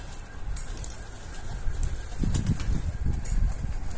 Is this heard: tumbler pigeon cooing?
yes